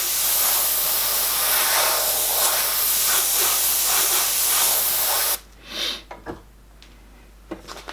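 An airbrush blows a strong steady hiss of air to dry paint on a Lest We Forget theme piece, loud and close for several seconds before cutting off, leaving a few soft puffs and faint handling sounds.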